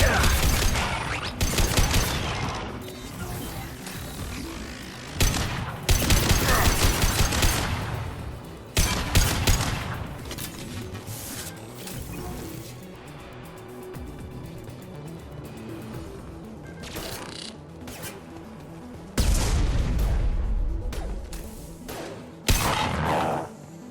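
Bursts of gunfire in the Mass Effect video game, several loud volleys with machine-gun style rattling over a busy combat soundscape, with quieter stretches between.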